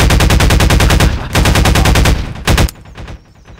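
The AR2 rifle in Garry's Mod VR fires loud, fast automatic bursts, a steady rattle of rapid shots that breaks off into a short final burst and fades.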